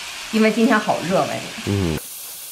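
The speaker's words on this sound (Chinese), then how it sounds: "听这个刺啦刺啦的声音" Pork belly sizzles on a 1400-watt electric grill pan, a steady frying hiss running beneath a voice for most of the moment, then briefly exposed on its own at the end.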